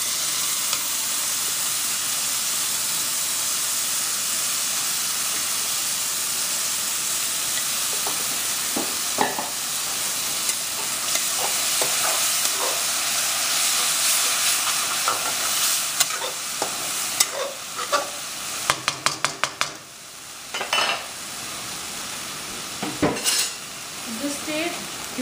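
Tomatoes dropped into onions frying in oil in a pot for Punjabi yellow masoor dal, a steady sizzle throughout with scraping spoon stirs and clinks of cookware growing busier toward the end.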